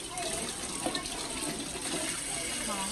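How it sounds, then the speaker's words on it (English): Hands are washed under a running tap at a nail salon sink, a steady close rush of water with shifting splashes, a voice briefly audible underneath. "She wants me to wash my hands"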